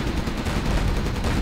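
Gatling tank machine gun in the Command & Conquer Generals Zero Hour strategy game, a dense continuous stream of rapid gunfire, loud and unbroken throughout.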